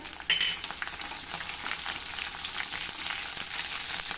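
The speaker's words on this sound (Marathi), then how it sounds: "हे शेंगदाणे आता आपल्याला छान खरपूस तळायचे आहे" Peanuts fry until crisp in hot oil for a tempering for kairi bhat, a soft, continuous sizzle with light stirring clicks, fairly faint and without talk.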